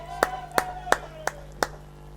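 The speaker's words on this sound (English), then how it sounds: "A big round of applause for Rowe and Wiseman." Applause at a horse race meeting at Cannon Park, Cairns, Queensland: five sharp, evenly spaced hand claps sound faintly over a steady low electrical hum.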